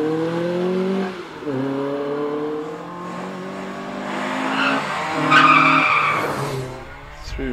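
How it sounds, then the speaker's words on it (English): An early TVR Vixen races up the Prescott hillclimb course at a historic event, its engine note rising and falling through gear changes with tyre scrub, loud and passing close. "Steve Thomas in the TVR Vixen, one of the earlier TVRs, heading into Pardon."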